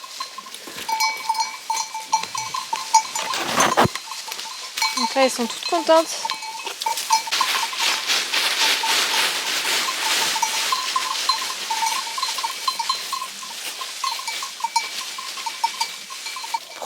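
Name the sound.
herd of goats being walked in the mountains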